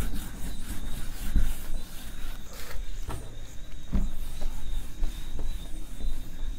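Chalk or a duster rubbing across a classroom board during a physics lesson, a steady scratchy friction with a few sharper knocks, close and alone with no talk.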